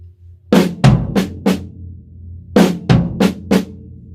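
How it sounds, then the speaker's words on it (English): A left-hand paradiddle played on snare and floor tom drums: two quick groups of four sharp, close strikes separated by a short pause, ringing in a quiet room. "you're just going to continue the left hand paradiddle as you are"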